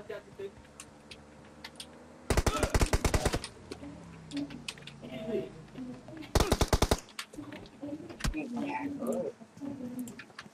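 Two loud bursts of automatic gunfire in PUBG ring out a few seconds apart, each a rapid string of shots, with game ambience, bird-like chirps and men chatting between them.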